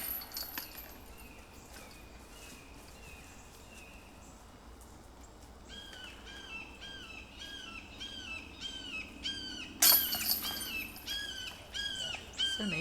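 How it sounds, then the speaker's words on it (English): Hawks and owls call outdoors at a bird sanctuary, a run of repeated squawking and chirping calls building after a quiet stretch, with one loud sharp cry near the end over steady outdoor background noise. "It's just the sounds of Maggie with the hawks and the owls and everything out there."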